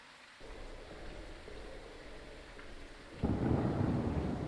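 Steady rain with a low thunder rumble hisses through a Phasmophobia game scene, the storm swelling noticeably louder near the end.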